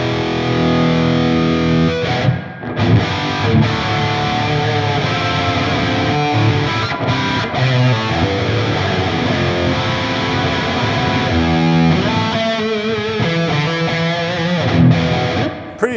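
Electric guitar played through a Tonex One amp-modeling pedal with reverb switched on, a loud, dense distorted tone ringing continuously with a few brief gaps and no talking.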